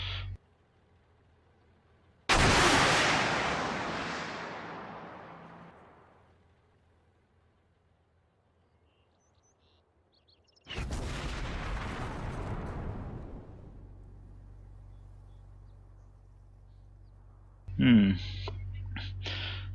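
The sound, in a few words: Swingfire or SABRE missile firing in a video game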